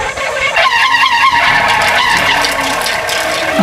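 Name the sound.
kolecer wind propeller toy rattling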